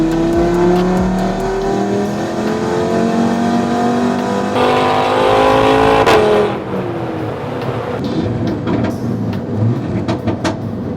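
An Audi RS3 with a brand new engine revs on a dyno, a loud close engine note climbing in pitch, then cutting back to a rougher, lower rumble with scattered clicks.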